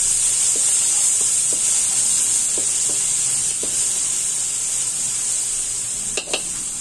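Garlic and onion frying in a pan, a steady bright sizzle throughout with faint stirring clicks scattered across it, close and fairly loud, no talking.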